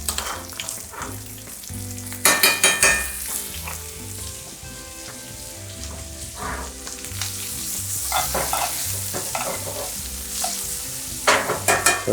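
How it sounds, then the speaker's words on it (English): Chopped food sizzling and frying in butter in a pan, a continuous close crackle broken by bursts of louder stirring and scraping as the pieces are moved around. "that's going right into the pan. I'm gonna add a little bit more of the butter"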